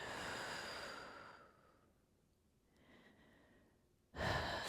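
Slow breath exhaled during a yoga session, a soft airy breath out that fades to near silence before a sharper, louder breath at the end, heard alone without talk.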